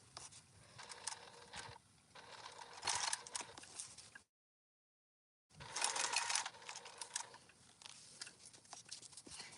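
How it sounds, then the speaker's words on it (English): A sewing machine stitches a seam in short, fast mechanical bursts of rattling needle strokes, stopping for a silent pause before running again in a second similar burst. "so I will actually stitch through this like 3 times, basically making this a very strong seam"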